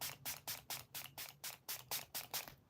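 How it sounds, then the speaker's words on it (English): A face mist bottle sprays in about a dozen quick hissing bursts at a steady rhythm during a skincare routine, close and fairly loud, with no talking and a faint low hum underneath. "I'm gonna go in with another spray"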